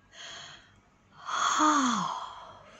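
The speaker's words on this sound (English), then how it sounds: "Jesus yawned." A drawn-out yawn, starting as a soft breath and swelling into a loud, falling, groaning exhale, close to the listener.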